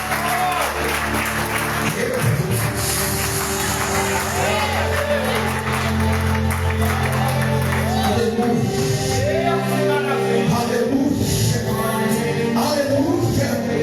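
A congregation claps during a Pentecostal church service in Brazil, dense continuous applause with shouts and whoops blended with music and voices, loud and close throughout.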